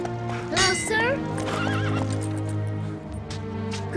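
A horse neighs loudly with a wavering whinny while hooves clip-clop steadily beneath, close by, and a person speaks over the sounds.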